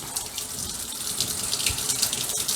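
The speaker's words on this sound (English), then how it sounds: "Do another quick rinse under the water." Beets being rinsed under a running kitchen tap, a steady close stream of water splashing into a sink and colander throughout, with no voices.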